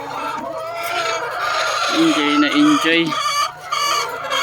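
Backyard coop chickens clucking and a rooster calling nearby, loud and busy, with a short spoken word partway through.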